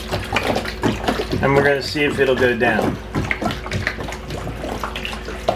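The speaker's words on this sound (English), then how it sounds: "We're just going to pour the rest of this jug in here." Water from a jug is poured fast into a camper shower drain, a steady gushing, gurgling flow running under continuous close talk throughout.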